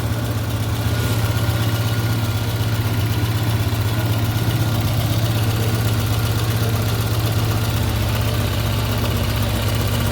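A VAZ 21083 with a 1.5 engine idles steadily after a cylinder head repair, giving a close, loud, even mechanical hum with a low rumble that holds constant for the whole stretch.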